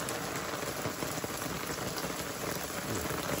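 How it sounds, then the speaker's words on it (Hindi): Rainwater pours steadily through a cleared rooftop drain spout during the rainy season, a continuous close, loud splashing rush with no pauses. "इधर देखे कैसे शर शर पानी जा रहा है"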